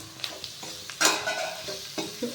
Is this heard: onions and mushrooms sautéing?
yes